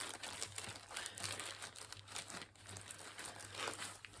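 Plastic packaging around a cross-stitch pattern crinkles softly and continuously, faint and close, with a low steady hum underneath.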